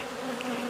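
A steady, dense buzz of honeybees swarming around a hive, close and continuous, with no voices.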